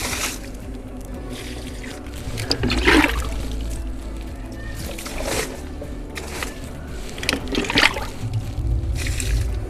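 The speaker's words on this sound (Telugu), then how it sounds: "వాటికి కూడా నేను పోస్తానండి ఇప్పుడు ఈ నీళ్ళన్నీ" Rice water splashes and trickles onto plants in a home backyard garden, with several louder pouring bursts over steady outdoor background noise, fairly close.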